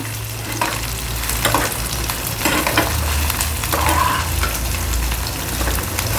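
Green chillies, garlic and cumin sauté in a hot pan, with a steady loud sizzle broken by repeated scraping strokes of a spatula stirring the mix, no voices.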